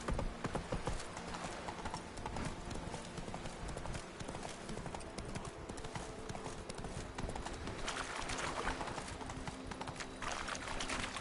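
Steady rhythmic clip-clop of horse hooves at a trot in the video game The Witcher 3, continuous and fairly close, with no talking.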